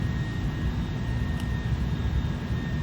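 Airbus A310 in a flight simulator game descending on approach with landing gear down and flaps set, giving a steady, even jet-engine drone with no voices.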